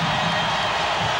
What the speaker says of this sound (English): And again, the crowd comes to life.